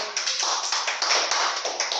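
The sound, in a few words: congregation clapping hands in church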